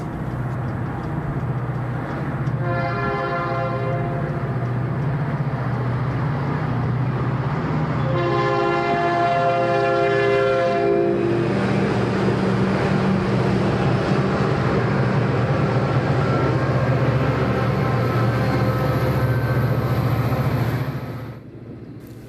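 Santa Fe eastbound trains climb the grade toward Flagstaff, with a steady heavy diesel rumble throughout and two long, loud multi-tone horn blasts, the engine drone continuing strongly before fading at the end.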